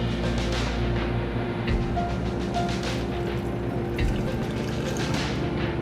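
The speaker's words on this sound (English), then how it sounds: "to the matcha, I'm going to add about 2 ounces of warm water." Warm water is poured onto matcha powder in a cup, a close, continuous splashing stream that briefly pauses partway through and then resumes, with no talking.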